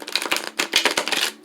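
Tarot cards being shuffled by hand during a reading, a run of quick papery riffles and soft slaps in short bursts, close and fairly loud with no talking.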